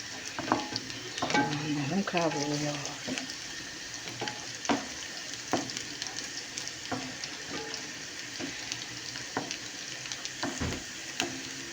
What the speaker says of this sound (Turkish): Soğan kavruldukça mis gibi koku lezzet veriyor.